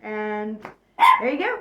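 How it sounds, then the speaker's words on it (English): A dog barks indoors as family arrives home, a short loud burst of yelps coming right after a person finishes speaking. "Sorry about the dog barking at the end."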